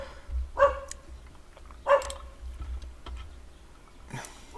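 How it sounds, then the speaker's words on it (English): A neighbor's dogs bark outdoors at a distance, two clear separate barks about a second apart and a fainter third one later, over a quiet low background hum. "Got the neighbor's dogs barking."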